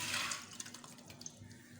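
Steady stream of tap water pours into a pan holding lentils for a Mughlai dal, a soft, continuous splashing rush heard close and alone for under two seconds.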